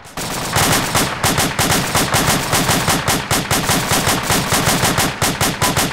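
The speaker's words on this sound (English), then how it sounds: "and yeah, there's tracers firing at us." Sustained automatic gunfire with tracers in the military video game Arma 2, loud rapid bursts of shots rattling almost continuously, close and dominant, with no talking over it.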